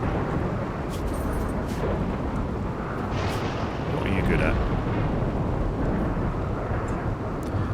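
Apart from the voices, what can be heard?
thunderstorm with rain in the video game RimWorld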